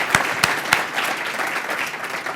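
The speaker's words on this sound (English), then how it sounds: "So y'all need to give them a round of applause" Audience at the NCBE Annual Meeting giving a round of applause, a few sharp individual claps up front followed by sustained, moderately loud clapping from a crowd, with no speech over it.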